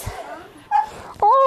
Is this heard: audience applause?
no